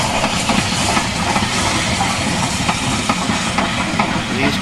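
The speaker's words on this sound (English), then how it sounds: "This is 92 Squadron again, the Battle of Britain class engine, running into Horsted Keyes with two of the beautiful Pullman coaches." Battle of Britain class steam locomotive 92 Squadron runs into Horsted Keynes station hauling two Pullman coaches, giving a loud continuous hiss of steam with rolling rail noise and faint clatter underneath.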